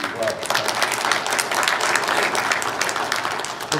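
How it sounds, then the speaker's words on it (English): A seated audience at a talk bursts into loud, dense clapping and cheering for themselves, sustained applause with some voices mixed in throughout. "So give yourself an applause because you are who you are"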